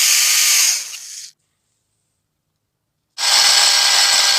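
Loud, steady whirring and abrasive grinding of wood spun on a drill and sanded with red sandpaper for a handmade knife, cutting out to silence for about two seconds, then resuming just as loud.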